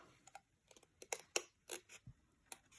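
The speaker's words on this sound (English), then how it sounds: "So I'm just going to cut round the leaf itself." Scissors snip around a fabric leaf in a series of quiet, close, crisp cuts with short pauses between them.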